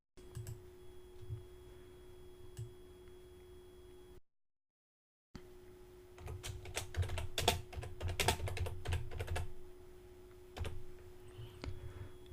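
Typing text on a computer keyboard while editing a website, quiet scattered key clicks that become faster and denser later on, close to the microphone, with a steady hum underneath and a brief silent gap.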